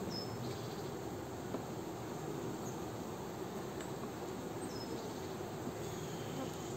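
A small wild honeybee swarm on hive frames gives off a steady, dense buzz that stays constant from start to finish, close by and with no voices over it.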